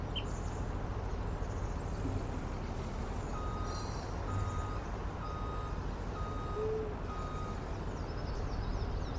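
A truck reversing in Farming Simulator 19 on a forest map, with a steady, evenly spaced backup beep running over a constant low engine rumble and faint birdsong in the background.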